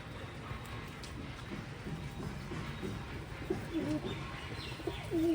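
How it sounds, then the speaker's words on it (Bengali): Pigeons gathering to feed coo softly and repeatedly at close range, low throaty calls over a faint rustle of birds moving about. "আর সব পায়রায় চলে এসছে।"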